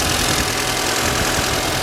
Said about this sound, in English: I can really hear my valve noise more than you can just standing here